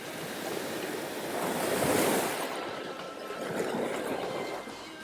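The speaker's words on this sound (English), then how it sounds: "Go surfing at Secret Beach. There's no current, friendly waves, little beginner area." Ocean waves at Secret Beach, Siargao, a calm surf spot with friendly beginner waves, wash in steadily with two broad swells of surf and light wind noise, close and continuous with no talk.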